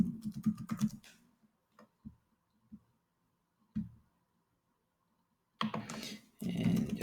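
Short bursts of computer keyboard typing while a terminal install command is entered, a quick flurry of clicks, a few isolated keystrokes with pauses, then another dense burst, close and clear.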